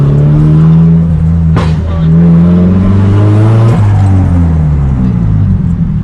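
Straight-piped Nissan S15 engine revving inside a tunnel, loud and close, with a deep droning exhaust tone that climbs and falls through two sharp rev changes, reverberating off the walls.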